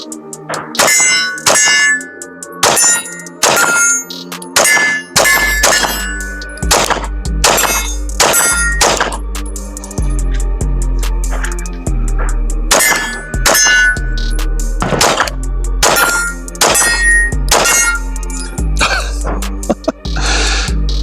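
Pistol rounds of 115-grain ammunition striking steel shooting targets set at 15 and 25 yards on an outdoor range, each shot followed by a loud ringing clang, fired in irregular strings over a steady low engine-like hum.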